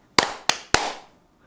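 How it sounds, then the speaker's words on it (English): Three sharp, separate hand claps, close and crisp, each with a brief room decay, the last two evenly spaced, followed by silence. "So I'm gonna do a clap, clap."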